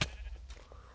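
A sheep in the Minecraft video game lets out one short bleat, clear and close, followed by a faint low game-world hum.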